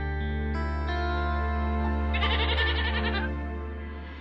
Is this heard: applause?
no